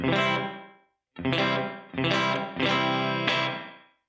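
Electric guitar played through a Donner reverb pedal set to a modest room reverb, four strummed chords ringing out with a short room-sized tail, clean and close with a brief gap between the first two.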